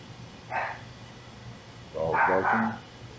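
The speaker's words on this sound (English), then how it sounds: "Dog barking." A dog barks nearby in a basement, first a single short bark, then a quick burst of two or three louder barks a moment later, with no one speaking.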